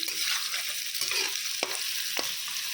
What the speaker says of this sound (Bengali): হালকা ভাজা হোক, গাজর আর বরবটিটা দিয়ে দিচ্ছি, ভাজা ভাজা হয়ে যাচ্ছে